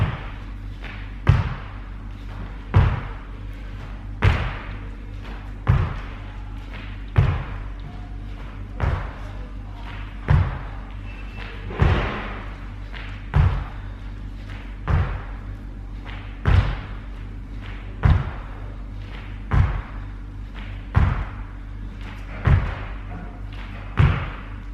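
Evenly spaced heavy thuds come from people jumping and landing during a group warm-up exercise that mimics a basketball shot. They repeat roughly every second and a half over a steady low background hum.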